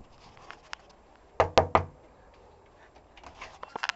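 Three sharp, evenly spaced knocks hit a house door close by, standing out clearly over quiet background noise, with a few softer taps and rustles afterward.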